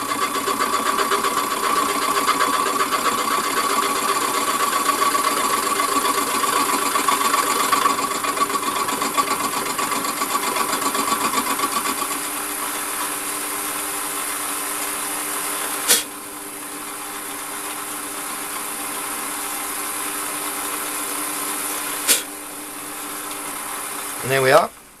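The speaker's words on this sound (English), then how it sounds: "we'll run the cutter back across that face nice and gently" Warco metal lathe running a gentle facing cut with a shop-made quick change tool post: steady humming motor drone with a faint high cutting whine, two sharp clicks later, loud and close.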